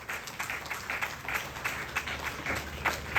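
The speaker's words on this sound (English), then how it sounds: "Please give a round of applause for these wonders." An outdoor audience at a Ramayan in the Park event applauds young performers, a fairly quiet but dense patter of clapping hands with no talking.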